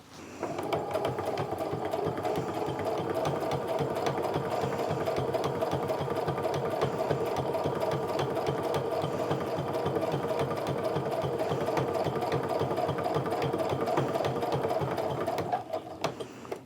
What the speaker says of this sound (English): And I'm just going to start sewing, making sure that that guide stays in line with this folded pleat the entire way down.